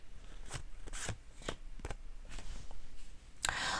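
Tarot cards are shuffled and drawn, giving a series of soft, brisk riffling and slapping bursts at irregular intervals, with a sharper flurry near the end. No voices, just quiet, close handling.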